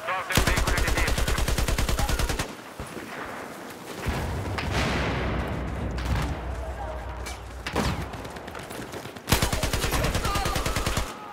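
Battlefield 4 gameplay gunfire: loud, rapid automatic bursts rattling in long strings, broken by heavy booms and rumbling battle noise, with someone talking over the action at times.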